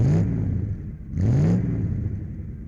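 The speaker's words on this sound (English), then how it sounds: "I'm going to take this Focus RS for a drive today" A 2003 Ford Focus RS Mk1 hot hatch engine revs in two rising bursts, each swelling and then easing back into a steady mid-pitched drone, heard up close with no voices.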